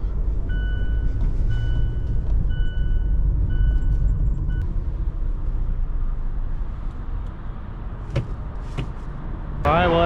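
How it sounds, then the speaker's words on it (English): Cabin sound of a 2014 Mazda CX-5 on a test drive after new sway bar links were fitted: a steady road rumble with a repeating chime early on, a couple of thumps, and a sharp clatter at the end. "All right, let me go drive this thing and see if the noise is any better."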